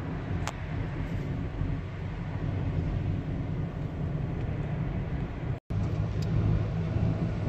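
A car climbs a cleared, snow-lined mountain road in Oregon, its steady interior engine and tyre rumble droning continuously with a brief momentary dropout near the end.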